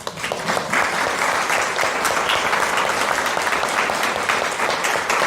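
A live audience at a book and inclusion interview event breaks into applause, a full sustained clatter of many hands at close range that holds steady throughout.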